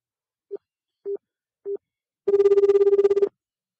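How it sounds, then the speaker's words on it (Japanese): Telephone ringback tone while calling someone: three short evenly spaced beeps followed by a longer, buzzing burst, clean and alone with no voices. "ちょっとね、別の方に電話してみようと思ってます。"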